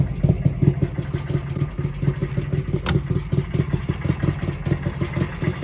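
The two-stroke engine of a Trabant rally car runs close by, a loud, rough, rapidly pulsing idle with a brief sharp click partway through.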